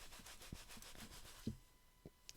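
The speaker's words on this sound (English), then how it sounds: "I'm gonna rub this off really good on my pants" Soft rubbing of a baseball card on a pair of pants, several quick scratchy strokes close up and quiet, followed by a couple of faint taps.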